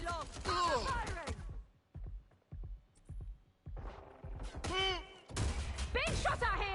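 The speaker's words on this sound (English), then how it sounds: "I'm firing." Bursts of gunfire in Watch Dogs Legion: short crackling volleys and scattered single shots, some near and loud, broken by brief quiet gaps, with a voice talking between the bursts.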